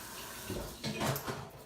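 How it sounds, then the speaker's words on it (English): Celery is rinsed under a running kitchen tap: a steady close splash of water, with brief louder gushes as the stalks are moved in the stream. "So washing my celery right now."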